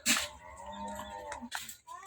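A cow on a family farm lows nearby in a clear, drawn-out moo with harmonic tones, followed by softer shorter calls and a few sharp rustling bursts around it.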